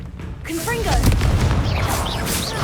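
A Confringo fire-blast spell explodes in Hogwarts Legacy with a loud, booming burst followed by a rumbling, crackling tail, along with some high whooshing magical effects.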